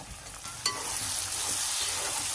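Tomatoes drop into a frying pan of onions, green chilli, ginger and garlic for a Telugu fish curry. A short clatter is followed by a steady, close sizzle with faint stirring, and no talking.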